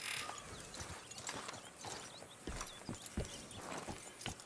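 Horse hooves clip-clop at a steady walking pace in Red Dead Redemption 2, soft repeated thuds over a low ambient game background with no talking.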